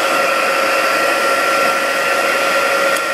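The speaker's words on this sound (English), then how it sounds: "heat set it with a heat tool" Heat embossing tool blowing hot air onto white embossing powder, a steady loud whirring fan hum with an even airy hiss, continuous and close, no speech.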